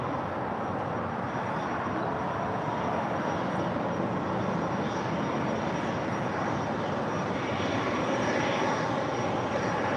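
A Delta jet roars on its takeoff roll from runway 24 left at Los Angeles International Airport, a loud, steady broadband engine rumble holding for the whole stretch.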